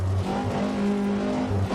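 A rally car in Richard Burns Rally braking hard on a straight, with a loud, close engine drone and tyre scrub as it slows. The sound is continuous and brief.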